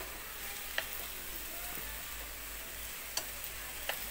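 Vegetarian rice vermicelli stir-fried in a pan, a soft continuous sizzle with a few sharp spatula taps against the pan, close but fairly quiet, with no talking.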